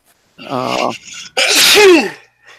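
A sharp inhaled gasp builds into one loud, close sneeze, followed by a short quiet breath.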